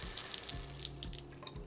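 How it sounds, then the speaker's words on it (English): Water running from a household tap through a Sawyer tap filter, a steady hissing stream with low, rhythmic gurgling pulses repeating roughly every half second. "Slowly turn on the tap until you feel like the filter is about to pop off and let it run for at least 30 seconds."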